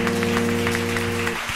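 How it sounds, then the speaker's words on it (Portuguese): Church congregation applause during a Portuguese-language sermon, a mass of clapping heard over a sustained organ or keyboard chord that drops away near the end, fairly loud and roomy. "Você pode aplaudir a Ele, querido."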